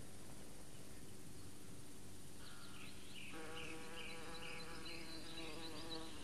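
A bumblebee buzzes in a continuous close drone with a wavering pitch, gaining extra overtones partway through, heard alone at low level without talk.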